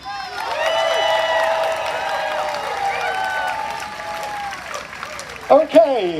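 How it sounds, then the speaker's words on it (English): An audience at a live pun contest breaks into sustained clapping and cheering for a competitor, with whoops and voices rising over the steady applause before a few louder shouts at the end. "Clap for Andy."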